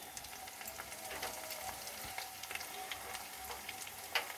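Spices with turmeric, chili and Kashmiri chili powder fry in a pan for prawn curry, giving a soft, continuous sizzle broken by light stirring clicks and scrapes, fairly quiet and with no talking.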